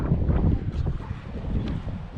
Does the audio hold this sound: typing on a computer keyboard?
no